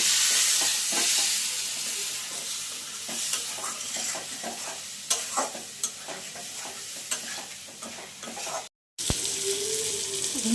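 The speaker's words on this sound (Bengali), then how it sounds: "জল দিয়ে কষিয়ে নেব" Spices cook down with water in a pan for a koi fish and vegetable-stem curry, a continuous close sizzle with repeated stirring clacks, then a brief gap and a faint watery bubbling.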